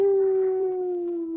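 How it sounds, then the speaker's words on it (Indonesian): A single wolf howl, long and steady, sliding slowly downward in pitch, close and loud with nothing else behind it. "Tiba-tiba kemudian terdengar lolongan anjing serigala."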